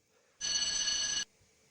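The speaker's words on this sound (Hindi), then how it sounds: "देखता हूँ किसका फोन है।" A telephone bell rings in a single loud, continuous burst of just under a second, standing alone against a quiet background.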